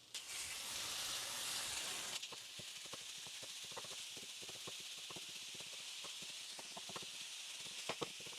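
Meat going into a hot pan beside browned egg roll filling for cheeseburger egg rolls, a steady sizzling hiss that flares loudly at first, then settles into quieter frying with scattered pops and crackles.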